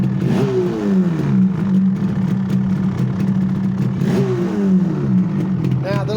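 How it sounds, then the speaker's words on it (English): A rebuilt vehicle engine with freshly rebuilt carburettors runs loud and close, holding a steady rough idle with two brief rev rises, one early and one midway. "come on Rog, start her up for the fans"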